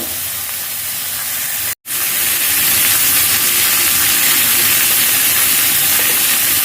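Vegetables fry in a pan for a Chittagong-style rohu fish curry, giving a loud, steady, close sizzle broken by one short gap of silence.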